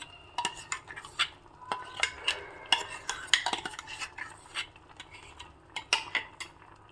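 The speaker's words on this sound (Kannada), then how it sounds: "ಈಗ ಇದಕ್ಕೆ ಗ್ರೈಂಡ್ ಮಾಡಿರುವಂತಹ ಮಸಾಲೆಯನ್ನು ಹಾಕ್ತಾಯಿದ್ದೀನಿ" A spoon scrapes and clinks against a pot as ground masala is stirred into a Malenadu-style raw jackfruit curry, with irregular taps and scrapes repeating close by in a quiet kitchen.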